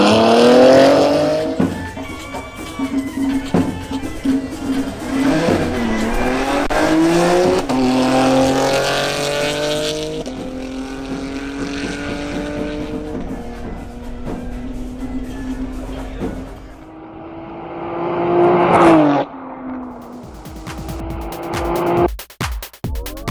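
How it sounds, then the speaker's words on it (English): A BMW M340i xDrive makes a drag racing pass, its engine revving hard through several rising gear pulls with loud shifts in between and tire noise, then easing off near the end. "Duvan Cedino makes a new pass in his BMW M340i xDrive."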